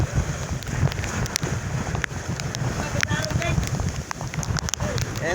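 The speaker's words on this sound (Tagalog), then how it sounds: "Hampas ng alon, tumatagilid yung bangka namin." Wind roars across the microphone with rough low rumbling and splashing water, a boat pushed through choppy sea and battered by waves during a typhoon, while voices talk over it.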